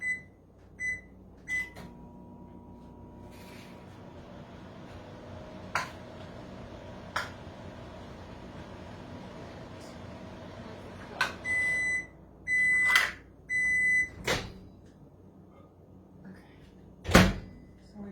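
Butter melting in a microwave oven for a Thanksgiving sweet potato soufflé: a steady hum runs for several seconds, then a string of short beeps sounds near the end, with a few clicks and knocks in a kitchen.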